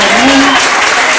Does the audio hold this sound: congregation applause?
yes